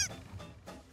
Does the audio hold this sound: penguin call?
yes